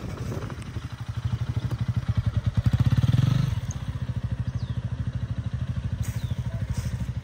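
A motorcycle engine chugs with a rapid, even pulse during a hard emergency-stop practice, briefly swelling louder before settling back to a steady idle-like throb, close and alone.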